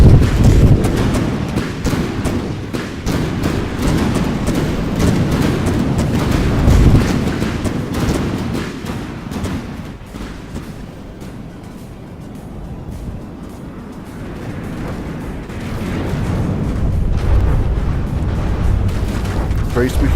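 Missile strikes hit during a video game battle between armored combat machines, giving deep rolling booms and rumbling impacts. A narrator talks over them continuously.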